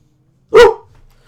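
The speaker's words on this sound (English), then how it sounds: "If you're going to bark, go outside." A dog in The Sims 2 video game gives one loud, sharp bark, close and clear, followed by a faint trailing whimper against near silence.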